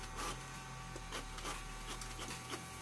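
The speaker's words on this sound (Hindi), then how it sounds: "अभी देखिए ऑटोमेटिक टानेगा, पहले इधर से बाहर निकलेगा, इधर से प्रिंट आउट निकलेगा" A Canon GM4070 printer pulls pages through its multi-page automatic document feeder and prints, giving a continuous mechanical whir with rhythmic rubbing and scraping passes, close and fairly quiet with no talking.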